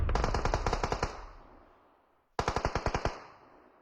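Rapid automatic gunfire in a video game, two bursts of about ten sharp, evenly spaced shots each, the first fading out before a short pause and the second starting loud and close.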